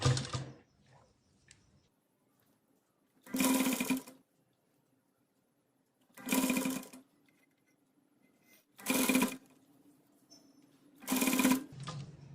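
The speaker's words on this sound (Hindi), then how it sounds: "इसे हम इस तरह से फोल्ड करेंगे और यहाँ पे सिलाई लगा लेंगे" A sewing machine stitches a drawstring onto the bottom of a ladies' pant leg in four separate runs of fast, rhythmic whirring, with quiet pauses between them.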